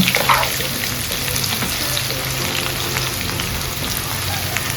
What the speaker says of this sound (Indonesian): Minyaknya wis panas bolo, langsung ae tempene dijeburno.